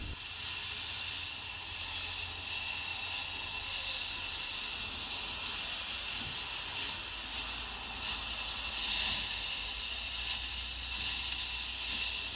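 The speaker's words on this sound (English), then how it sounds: "The sandblaster is the best way to remove the shell from the inside of these tubes." A sandblaster blasts the shell out of the inside of metal tubes for casting copper and silver, a steady loud hiss of rushing air and grit that holds unbroken throughout.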